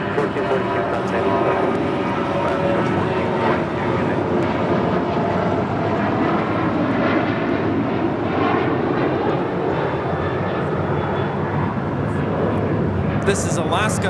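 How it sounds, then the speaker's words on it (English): Alaska Airlines Boeing 737-800 taking off at LAX, a loud, continuous jet engine roar holding steady throughout, with a voice talking over it. "This is Alaska 1442, taking off to Zihuatanejo on a 737-800."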